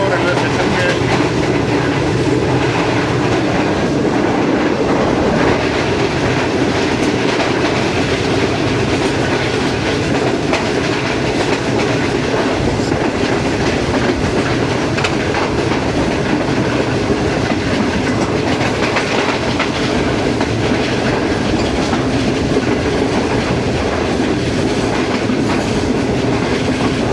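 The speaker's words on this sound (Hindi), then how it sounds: "ट्रेन हमारी नेशनल हाईवे N5 के ऊपर से गुजर रही है जी।" Pak Business Express passenger train rolling along the tracks between Lahore and Karachi, crossing over a highway: a loud, steady wheel rumble with clickety-clack rhythm carries on throughout, heard from close by.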